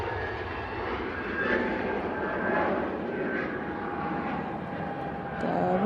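easyJet airliner departing Manchester Airport for Paris Charles de Gaulle, a steady, moderately loud jet engine roar from some distance that swells slightly and holds without a break.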